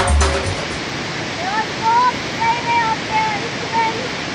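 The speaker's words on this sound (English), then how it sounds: "You made it to Na Muang waterfall number two." Na Muang waterfall number two roars as a steady, loud rush of falling water, with faint whistling tones drifting over the constant wash.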